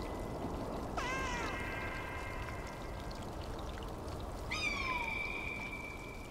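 A cat meows twice in the video game Stray, two clear, close meows a few seconds apart over a steady wash of rain-like ambient sound, with no talking.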